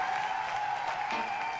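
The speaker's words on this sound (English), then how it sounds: "Guys, let's give them a round of applause for doing so great tonight." A pageant audience claps in a steady, fairly even burst of applause at moderate volume from a crowd, without a break for the short moment.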